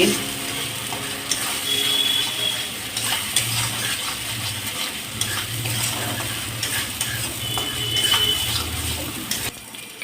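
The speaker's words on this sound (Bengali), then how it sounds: "এবার মশলার সাথে সব কিছু ভালো করে কষাতে হবে" Spice paste being stir-fried in a pan for a Bengali katla fish curry, a steady close scraping and stirring with a soft sizzle that runs continuously for the whole stretch.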